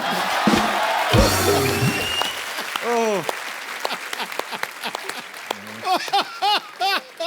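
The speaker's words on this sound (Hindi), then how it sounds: "ठोको ताली।" An audience claps loudly at first, then the clapping fades as voices call out and whoop in short rising shouts.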